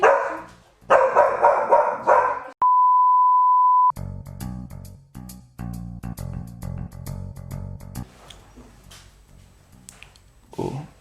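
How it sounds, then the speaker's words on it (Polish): A dog barks several times in short bursts, loud and close, mixed with an electronic beep tone and clattering, rhythmic indoor noises at a live improv show. "Na przykład teraz pies szczeknął i to nie było w scenariuszu."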